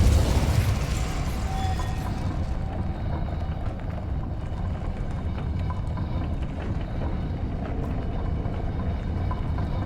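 Spell effects in Hogwarts Legacy: a roaring fiery burst at the start, then a sustained rumbling, crackling wash of magical energy with scattered pops, loud and continuous throughout.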